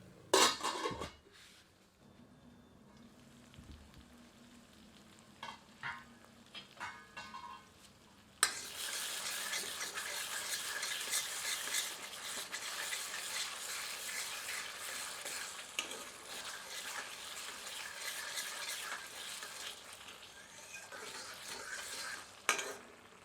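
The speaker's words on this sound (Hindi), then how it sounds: "मिलाकर 1 से 2 मिनट मध्यम आंच पर भूनते हैं" Yellow chili chicken stir-frying over medium heat, starting with a few loud clanks of utensil on pan and sparse scraping, then a sudden strong, continuous sizzle with steady stirring strokes and occasional metal clinks.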